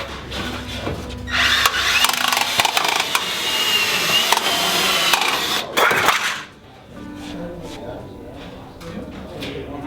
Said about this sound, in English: you can cut radius with it, cutting curves